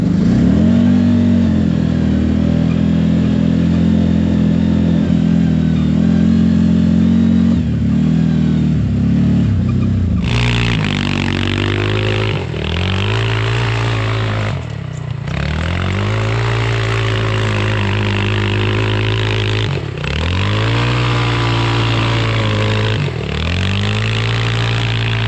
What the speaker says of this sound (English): Gonna take the CF Moto Z-Force 950